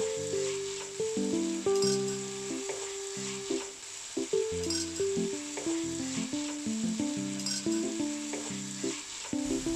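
Mustard greens and chopped coriander sizzle steadily as they're stirred in a hot pan for a vegetable dish, a continuous frying hiss running under a melodic background music bed.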